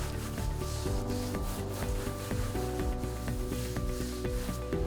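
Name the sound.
scrubbing floor with a rag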